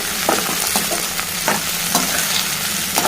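Onion, green peas and boiled potatoes frying together for garlic potato fried rice give a steady, loud sizzle, broken by repeated scraping stirs of the spoon, close up and with no voices.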